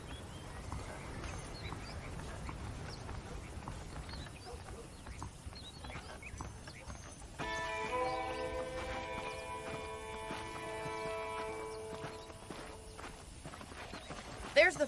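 Steady clip-clop of saddled horse hooves walking at an even pace in a video game, with a sustained musical tone entering midway and faint ambient noise.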